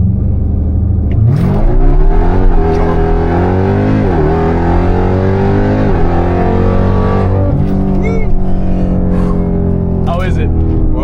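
A Jeep Trackhawk's engine of around 850 horsepower roars loud and near during a ride, climbing in pitch through repeated acceleration pulls and gear changes, with voices talking over it.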